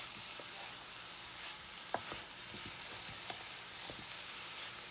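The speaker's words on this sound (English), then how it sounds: "Get that nice sizzle." Cabbage, carrots and bell pepper stir-fried on high heat, a soft continuous sizzle with a few light clicks of stirring, close and fairly quiet, with no talking.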